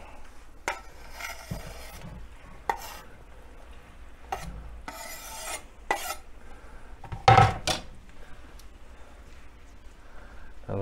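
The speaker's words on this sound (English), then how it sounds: "Now the mushrooms will cook pretty quick" Mushrooms cooking in a pan for a mushroom pasta, with intermittent clinks and scrapes of a utensil against the pan, some sharper knocks and a brief louder clatter near the end, over a low steady background.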